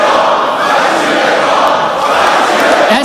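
A large crowd at a political party congress in Kinshasa chants slogans together, a loud, dense, continuous roar of many voices filling the hall without pause.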